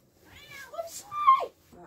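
A cat meows a few times up close, drawn-out rising and falling calls, with a brief voice near the end.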